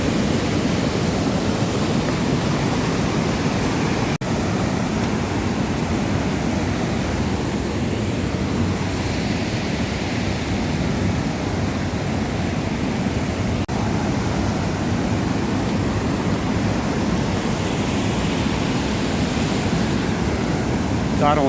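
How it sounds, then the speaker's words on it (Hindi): A fast-flowing mountain stream rushes in a constant, loud roar of water, heard close throughout as a steady broadband wash. "गधेरे का तेज पानी का बहाव और उसके किनारे चलते चलते"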